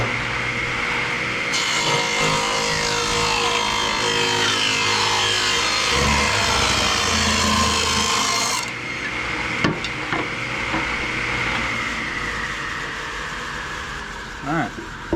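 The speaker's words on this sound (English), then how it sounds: "I've got my table saw set up already for 16 1/4. So I'm going to trim the end of this top across the length" A table saw trims the end of a wooden migratory top for a Langstroth hive, a steady loud whirring cut running for several seconds before the blade spins down, with shop noise and no voice.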